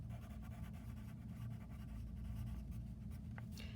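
Faint marker strokes on a board during a geometry lesson, soft scratchy lines drawn in short bursts against a quiet room hum, with no talking.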